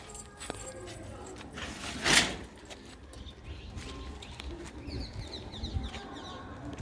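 Pigeons in a loft give faint, low cooing among soft rustles and a few clinks, with a brief louder scrape in the middle and someone speaking quietly nearby.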